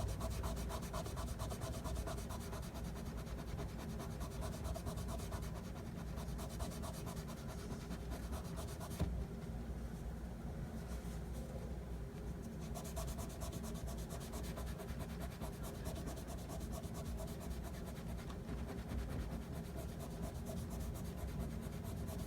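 The frets on a 1965 VOX Apollo IV bass neck are polished by hand with a towel, producing a continuous, faint rhythmic rubbing and scrubbing with no talk.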